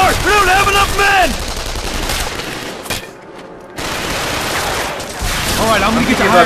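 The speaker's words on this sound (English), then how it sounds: "But those machine guns are tearing us apart!" Machine guns rattle in rapid, continuous bursts during a Killzone 3 video game battle, loud and close, with shouted voices over the firing and a brief lull in the middle.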